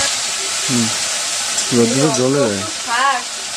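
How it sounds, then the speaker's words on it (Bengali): Dheki greens fry in a pan with garlic and green chilli, giving a loud continuous sizzle and hiss with stirring, while a voice talks over it in short bursts. "এখানে রসুন আর কাঁচা লঙ্কা ভেজে নিয়ে শাকটাকে দিয়ে দিলাম।"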